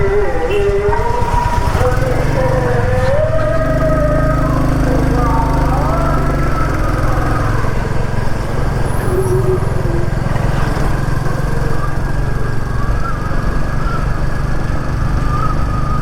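A Royal Enfield Classic 350 motorcycle rides onto a bridge, its engine a constant loud rumble mixed with heavy wind noise throughout, with a voice briefly talking over it early on.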